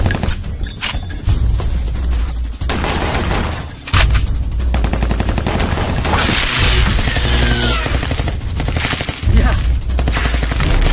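Film gunfire in a shootout scene: dense bursts of rapid automatic shots and sharp cracks, loud and close, with mechanical clatter and shattering debris running throughout.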